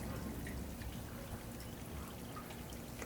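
Water pours steadily over tomato plants in an urban homestead garden, a continuous close trickle and splash running the whole time with no talk.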